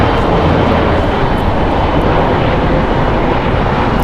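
Steady, loud broadband roar of a SkyWest Airlines Embraer E175 jet at LAX airport, its engines filling the scene continuously with no voices.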